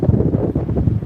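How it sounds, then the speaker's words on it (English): Strong, cold wind buffets the microphone on the beach at Fort Clinch, a continuous loud low rumble with gusty surges and no break throughout. "But man, it is cold and windy out here today."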